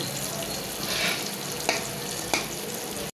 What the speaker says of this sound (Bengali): সবগুলি লাল লাল করে ভেজে নেব